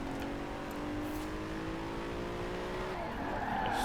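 A tuned Bentley Bottega in the racing game Forza Horizon 4, engine holding a high, steady whine as it accelerates along the road, then shifting near the end amid a light skid of tires; continuous and loud with no voices.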